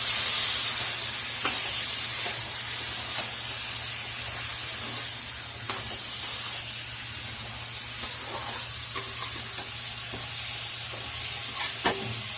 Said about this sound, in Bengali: একটু হালকা জল ছিটা দিয়ে দেবো দিয়ে একটু কষে নেবো ভালো করে